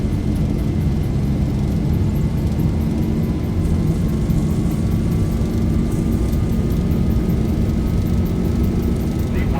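Boeing 737 jet engines roar steadily and loudly through a takeoff roll in a flight simulator, a constant dense rumble with a faint rising whine over nearly ten seconds.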